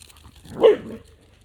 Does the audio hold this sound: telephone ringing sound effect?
no